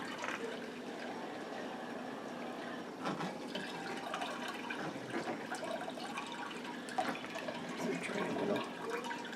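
Beer wort trickles and drains through a bed of grain during home brewing, a quiet, steady watery splashing and dripping with a few louder gurgles, no voices.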